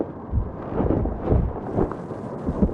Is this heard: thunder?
yes